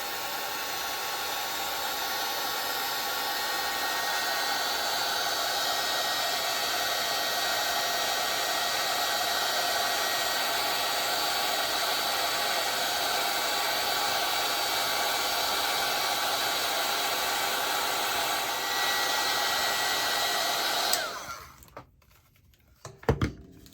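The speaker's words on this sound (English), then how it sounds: "you take your heat gun and you just put it over the magazine" Heat gun blowing over embossing powder on magazine paper, a steady loud whooshing hiss running for about twenty seconds before cutting off, followed by a few faint handling sounds.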